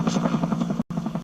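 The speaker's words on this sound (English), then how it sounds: "I heard it and then I saw it, a low-flying chopper." A low-flying helicopter passes over a home in San Carlos, a steady rotor drone and buzz holding close and fairly loud, with a brief dropout near the end.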